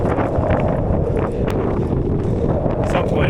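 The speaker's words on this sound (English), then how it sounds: "The wind is just unrelenting at this point." Strong gusting wind of 50 to 60 mph batters the outside of a tent during a Colorado backpacking trip, a loud, constant roaring rumble with buffeting against the fabric and no letup.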